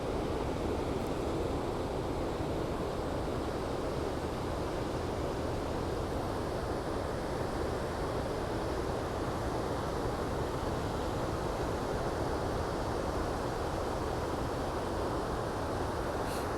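Steady roar of ocean surf washing onto Ocean Beach in San Francisco, continuous and loud, with wind noise buffeting the microphone throughout.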